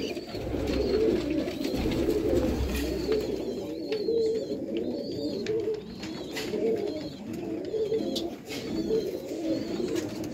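Teddy pigeons cooing steadily with soft, overlapping low coos, close by and continuous at a pigeon keeper's loft in Sialkot, with faint chirps from other birds above.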